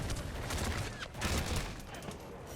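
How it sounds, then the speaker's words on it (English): Purple SMG firing in a video game, a dense rapid burst of automatic gunfire rattling continuously over busy game sound, swelling briefly midway. "I got a purple SMG. Oh, that just shreds."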